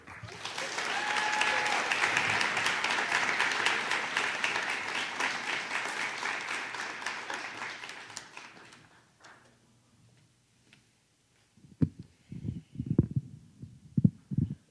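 Audience applause welcoming Steamboat Springs senior Haley Bender at a Boys & Girls Clubs of Northwest Colorado Youth of the Year event, a loud sustained crowd clapping for about eight seconds that fades out, followed by faint thumps and handling noises.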